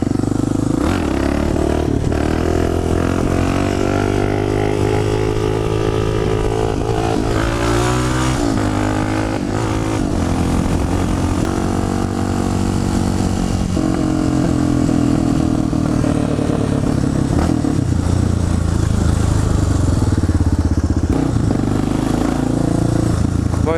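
A Suzuki 650 DR supermotard motorcycle engine runs steadily and loudly up close for the whole stretch, its pitch rising and falling as it revs. Voices speak faintly beneath the engine.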